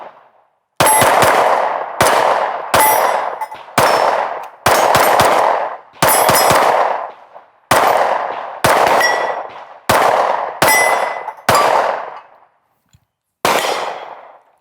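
Sig Sauer P320 XCarry pistol fired on a range, about a dozen loud sharp gunshots spaced roughly a second apart, each ringing out briefly with a pause near the end.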